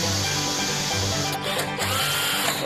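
A handheld power drill runs in reverse with an undersized bit against a wooden counter, a steady loud whirring motor with a brief dip midway before spinning on.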